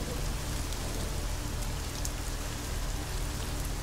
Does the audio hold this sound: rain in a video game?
yes